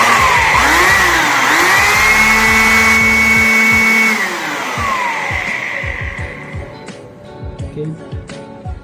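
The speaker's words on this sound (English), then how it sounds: "So I'm going to start this blower." An electric blower runs with a loud, steady motor whine that ramps up in pitch, holds for several seconds, then spins down and fades, followed by quieter clicks and someone talking.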